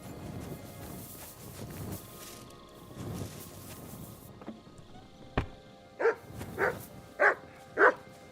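A dog barks in the video game Kingdom Come Deliverance 2, giving four loud, evenly spaced barks close by after a stretch of soft footsteps and ambient noise.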